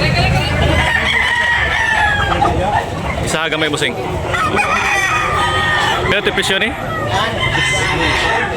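Roosters crowing loudly and repeatedly at a busy chicken market in Tabunok, Talisay, Cebu, with clucking and crowd babble throughout while someone talks over the birds.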